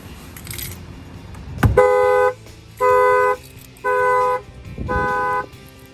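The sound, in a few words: factory car alarm triggered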